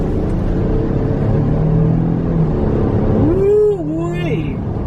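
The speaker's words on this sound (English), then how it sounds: "we're going to get a little bit of the acceleration test." A 2025 Toyota Tundra SR5 CrewMax 2WD pickup with 389 horsepower accelerating on a bypass, heard from inside as a steady, loud engine and road rumble, with voices speaking over it.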